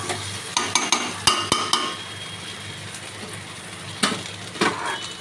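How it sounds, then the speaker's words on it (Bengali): Food stirred in a frying pan over a gas flame, a utensil scraping and knocking against the pan in irregular bursts over a soft steady sizzle, close and clear with no talk. "ভালো করে নাড়িয়ে"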